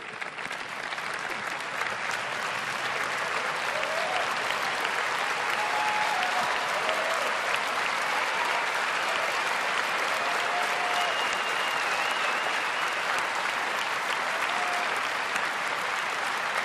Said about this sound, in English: Please stand up. I am applauding you.